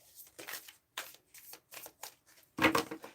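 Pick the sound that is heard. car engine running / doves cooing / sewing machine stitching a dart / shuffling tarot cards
shuffling tarot cards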